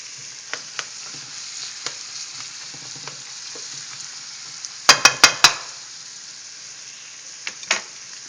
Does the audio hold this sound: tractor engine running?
no